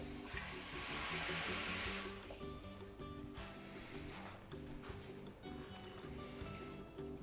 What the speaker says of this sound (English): I'm just going to add a little bit of hot water to it